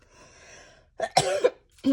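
A close, sharp allergy cough followed by a second shorter cough, preceded by a faint tonal hum in a quiet room.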